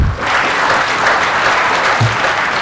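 Audience applause at a Hindi Diwas poetry recital of heroic verse in Patna, a steady dense clapping that runs loud and continuous through the whole moment with no voices over it.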